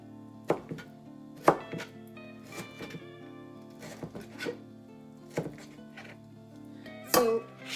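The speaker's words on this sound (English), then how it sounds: "So let's go ahead and chop up the mangoes." A knife chops mangoes on a cutting board for salsa, with sharp irregular thuds spaced about a second apart, close and clear in a quiet kitchen.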